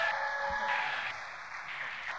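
A live crowd applauds for Phil at an event, a steady wash of clapping that fills the whole moment without voices on top.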